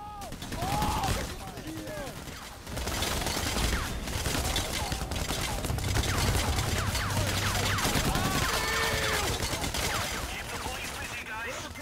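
Gunfire in the heist video game Payday: The Heist at a slaughterhouse, with bursts and sustained volleys of rapid shots layered with chaotic game effects, continuing almost nonstop at close range.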